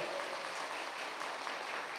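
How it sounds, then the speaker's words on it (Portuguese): Steady, dense applause from a Catholic congregation during a sermon on the Virgin Mary, filling the whole stretch at an even level without pause. "Aplauda a mamãe do céu"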